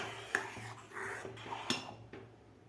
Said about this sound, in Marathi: यामध्ये थोडीशी आपल्याला वेलची पूड टाकायची आहे परत एकदा आपल्याला हलवून घ्यायचं आहे